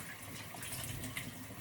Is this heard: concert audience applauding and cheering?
no